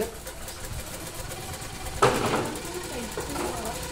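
A domestic sewing machine runs quietly, a low, steady mechanical whir under people chatting nearby.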